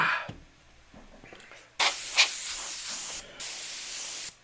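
An Iwata Eclipse airbrush sprays paint onto a Rancor monster model in two sustained bursts of sharp, close hiss, separated by a brief pause, with faint tapping before the first burst.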